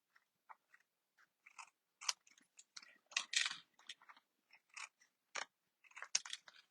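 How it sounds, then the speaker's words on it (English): Scissors trim cardstock for a handmade card in quiet, close, crisp snips, with irregular short cuts spaced through the clip. "And then I'm going to go ahead and trim this off."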